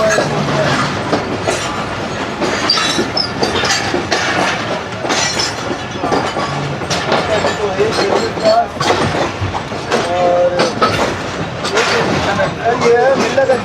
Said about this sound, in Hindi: और ये है मिल्लत एक्सप्रेस अच्छी आ रही है।